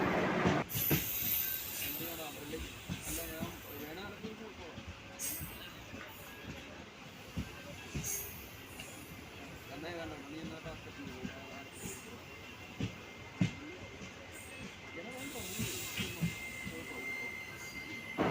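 A passenger train on the Ernakulam–Alappuzha line, departing Thuravoor station, rolls along steadily, its wheels rumbling and clattering on the rails without a break, with muffled voices in the carriage.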